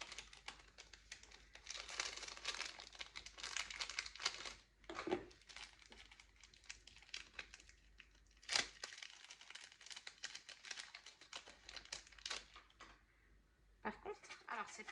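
Plastic sachets from advent calendar gifts being torn open and crinkled, soft close rustling and crackling that runs almost continuously, broken by a few sharper tearing snaps, with faint talk in the background.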